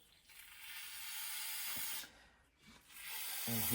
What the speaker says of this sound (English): I'll spray a little bit of brake clean